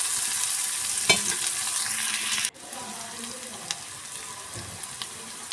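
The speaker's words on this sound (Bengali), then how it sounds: "পেঁয়াজটাকে আমি এভাবে করে নেড়ে চেড়ে ভালো করে ভেজে নেব।" Sliced onion frying in a pan and being stirred, a bright sizzle with scraping stirs that drops to a quieter crackle partway through, close and without talk.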